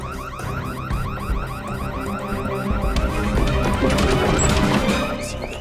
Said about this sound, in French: Les alarmes se déclenchent.